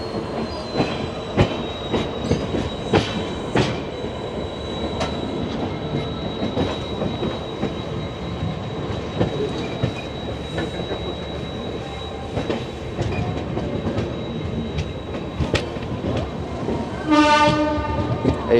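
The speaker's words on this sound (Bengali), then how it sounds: "এই দেখুন, আসানসোল স্টেশনে ঢুকছে ট্রেন আমাদের।" The Howrah–New Delhi Rajdhani Express (12301) rolls into Asansol station with steady wheel rumble, rhythmic rail clicks, a long thin squeal and a horn near the end, heard from aboard the train with faint voices in the background.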